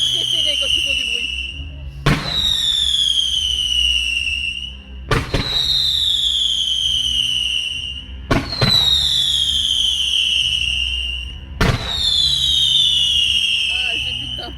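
Fireworks display at an October chestnut festival in Lewarde, France: five loud, evenly spaced bursts, each a sharp bang followed by a long descending whistle-crackle tail, heard alone outdoors.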